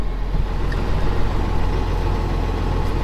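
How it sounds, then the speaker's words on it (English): A tractor engine idles steadily before harrowing, a continuous low rumble that stays even and close throughout, with no voices. "we get in the tractor and we'll get harrowing"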